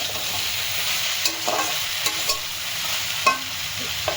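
Vegetables seasoned with salt and turmeric fry in a hot pan with a steady close sizzle, broken by a few sharp spatula scrapes and clicks; no one speaks.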